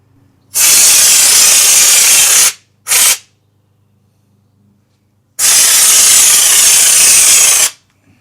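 A TCP Global spray gun sprays undercoating in loud hissing bursts: a long blast of about two seconds, a short puff, a pause, then another long blast, with quiet gaps between.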